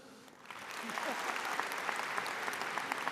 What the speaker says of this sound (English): he didn't deserve a full round of applause